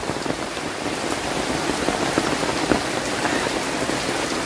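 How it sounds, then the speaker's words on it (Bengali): Heavy rain pours down in Bangladesh under a sun-shower sky, a dense, steady wash of patter that stays even and fairly close throughout, with no voices. "দেখেন এই যে দেখেন প্রচুর বৃষ্টি হচ্ছে"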